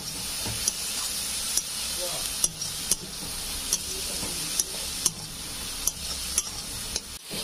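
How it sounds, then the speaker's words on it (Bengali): A spatula stirs momo filling of chopped carrot, coriander and green chilli in a pan: repeated sharp clacks and scrapes in a loose rhythm over a constant low sizzle. "এবার আমি এটা ভালো করে একটু নেড়ে চেড়ে নেব।"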